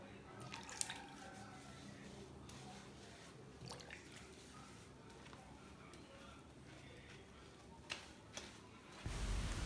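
A human hair lace front wig is washed with shampoo and water, giving soft, faint wet squishing and dripping with light handling rustles, quiet and close, and a louder splash of running water at the end.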